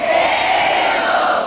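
A television studio audience roaring and shouting together, loud and continuous, a dense crowd cheer with no breaks.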